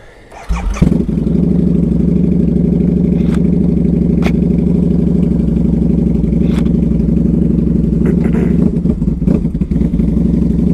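A 2003 Harley-Davidson V-Rod with forward controls starts up on a test drive, then its engine runs loud and steady throughout, a close, continuous rumble with light clatter and small throttle changes, and no talking.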